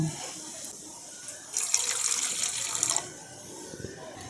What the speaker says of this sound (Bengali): দেখুন এর সঙ্গে আমি আরও একটু জল দিয়ে দেবো